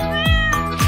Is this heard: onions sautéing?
no